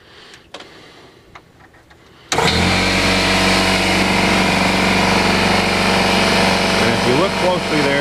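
A compressor powered through a van's solar inverter system kicks on abruptly after quiet clicks and then runs loud and steady with a constant hum.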